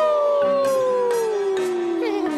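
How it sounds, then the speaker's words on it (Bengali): A dog's long, mournful howl rising and then slowly falling in pitch, loud and close, breaking into a few short wavering yips near the end, in an animated cartoon's dark night forest scene. "কুকুরের কান্নার একটা আওয়াজ শোনা গেল।"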